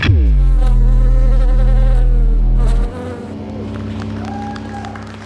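A loud, dense buzzing drone of beehive recordings run through synthesizers, shaped into sustained musical tones that shift and fade after a few seconds.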